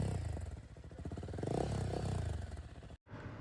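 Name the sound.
Royal Enfield Guerrilla 450 motorcycle with Akrapovic exhaust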